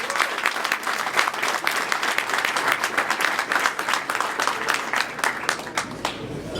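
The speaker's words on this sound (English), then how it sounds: "So give all of yourselves a round of applause." A large audience at an evening event in a Jewish museum in Manhattan gives sustained, dense applause that stays loud and even throughout, with a few claps standing out near the end.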